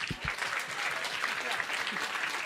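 An audience applauding at a stage event, a continuous, even burst of many people clapping at moderate loudness for the whole stretch.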